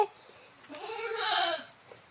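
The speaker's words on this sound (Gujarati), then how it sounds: "મારે ત્યાં બકરા પણ છે બકરીઓ પણ છે" Goats bleat on a farm, one wavering, drawn-out call close by, followed by a shorter second bleat, with no other sounds around.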